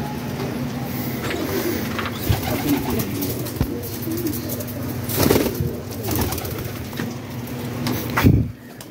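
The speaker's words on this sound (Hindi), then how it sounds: "पर वगैरह झाड़ रहे हैं परिंदे।" Pigeons in a loft shake and ruffle their feathers in a few quick rustling bursts, while steady cooing and other bird calls continue close by.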